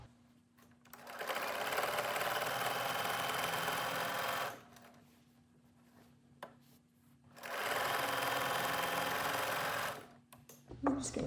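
A home sewing machine stitches through a thick minky blanket in two steady, close whirring runs of about three seconds each, with a quiet pause between them and light handling noise at the end.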